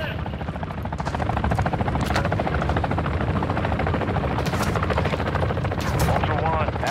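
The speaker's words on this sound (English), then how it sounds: "Hey, chopper! Chopper!" A helicopter's steady rotor chop fills the scene in the Call of Duty Modern Warfare 2 DMZ video game, loud and continuous, with bursts of gunfire cracking over it.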